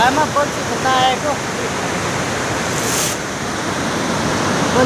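A waterfall pours into a stream where a fishing line is set, a steady loud wash of rushing water filling the scene with no breaks.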